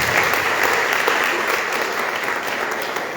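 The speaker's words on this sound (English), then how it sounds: "one more round of applause." Audience applause at a Saiva Sithantha Sungam 85th anniversary gathering, a steady dense wash of clapping from a sizable crowd lasting a few seconds without letting up.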